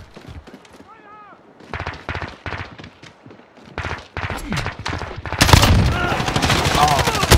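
Rapid machine gun fire in Call of Duty: Modern Warfare, scattered bursts early on, then a loud sustained volley over the final two seconds, with a voice speaking briefly.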